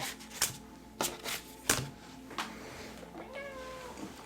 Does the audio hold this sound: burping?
no